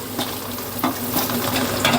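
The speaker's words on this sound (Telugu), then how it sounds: "ఇవి బాగా నూనెలో ఎర్రగా వేయించాలన్నమాట" Onions frying in oil in a pan for dum biryani, a steady close crackling sizzle with occasional stirring scrapes, no voices.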